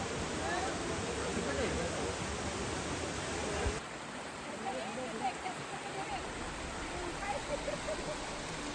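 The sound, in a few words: waterfall water flowing under a bridge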